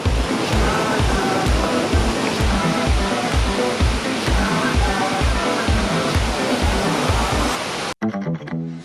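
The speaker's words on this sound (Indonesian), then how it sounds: "Namanya air terjun Bidadari" The Bidadari waterfall on Mount Tambora produces a loud, continuous roar of rushing water heard close up, with a rhythmic pulsing texture that cuts off abruptly near the end.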